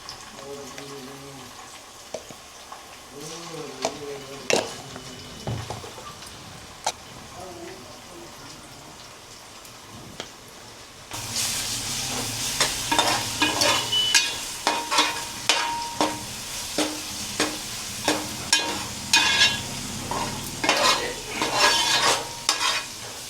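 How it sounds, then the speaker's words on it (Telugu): Onions dropped into hot oil in a pan for a Telugu-style korramatta fish stew, then ginger-garlic paste and turmeric stirred in; quiet stirring first, then a sudden loud sizzle with repeated scraping stir strokes. "నూనె కాగింది, ఉల్లిగడ్డలు వేసేస్తున్నా. మగ్గినవి అల్లం వెల్లిగడ్డ పసుపు వేసేస్తా."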